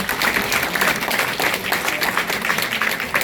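Audience at an election campaign office opening in Incheon applauds as local association heads are introduced, brisk clapping from a moderate crowd, steady and fairly close.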